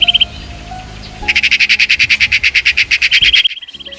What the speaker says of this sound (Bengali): পাখিদের ডাকাডাকি,